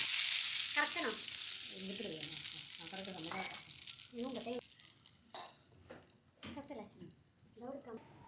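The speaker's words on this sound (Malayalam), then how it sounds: "ഒരു തവി മാവ് അപ്പച്ചട്ടിയിലേക്ക് ഒഴിച്ചു കൊടുക്കാം" Appam batter sizzles in a greased appam pan, a bright hiss that starts strong and fades, with a voice talking over it and occasional utensil clinks.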